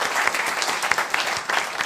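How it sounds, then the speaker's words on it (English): Live podcast audience applauding at the Giant Dwarf venue, a dense, steady wash of clapping from a full crowd that carries through the whole stretch without talk. "Could we have a round of applause for all the staff here at Giant Dwarf doing a great job?"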